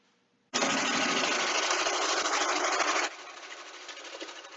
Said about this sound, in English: turn the machine on, put our heads of lettuce in, and process